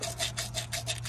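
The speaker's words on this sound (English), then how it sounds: "I'll hit it a few more times with the sandpaper to get back." Sandpaper rubs back and forth over corroded ignition points on a 1953 GMC one-ton truck, giving about five quick, even rasping strokes, close and alone.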